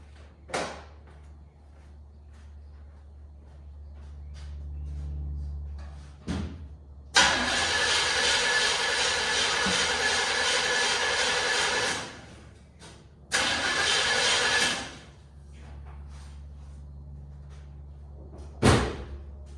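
The engine of a K5 Blazer cranks without firing, in two long bursts of steady starter whirring separated by a short gap. Faint knocks and clunks are heard in the quieter stretches between them.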